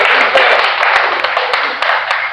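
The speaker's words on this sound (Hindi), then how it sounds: "ताली तो बजा दीजिए" An audience at a mushaira poetry recital applauds with dense, steady clapping that fills the space for a couple of seconds, loud and close, with no talking over it.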